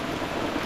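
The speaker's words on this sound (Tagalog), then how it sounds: "Grabing ulan na ito." Heavy rain pours in a steady, dense hiss with a low rumbling undertone, loud and unbroken through the short moment.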